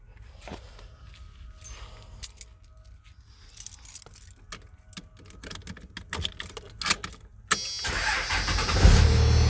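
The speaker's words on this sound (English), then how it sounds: "I'll start the vehicle." A 1997 Dodge Ram 2500 pickup: keys jingle and click in the ignition for several seconds, then the engine cranks and catches with a sudden loud roar that settles into a steady, close running rumble.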